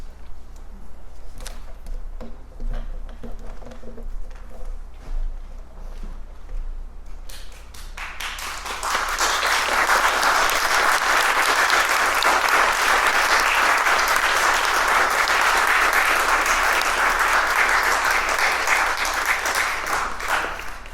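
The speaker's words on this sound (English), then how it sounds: "I'm so glad for that applause" An audience at an art and music event bursts into applause after a quiet stretch, the clapping swelling into a broad, steady roar that holds loud and even to the end.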